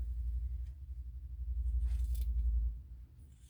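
Scissors trim fabric points on a quilted pumpkin in a few short, quiet snips. They sit over a dominant low rumble near the mic, with no talking.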